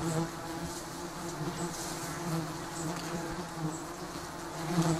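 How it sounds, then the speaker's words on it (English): Giant stinging honeybees buzz at their nest on a sparsely leaved tree or rock crevice, a dense, steady swarm drone close by with individual bees whining past, no talking. "The giant stinging honeybees build their nests on sparsely leaved trees or rock crevices"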